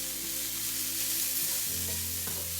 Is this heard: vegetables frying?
yes